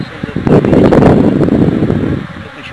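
Strong wind blows outdoors at a beehive, a loud rushing buffet across the microphone that swells for about two seconds and then eases off, with no clear speech.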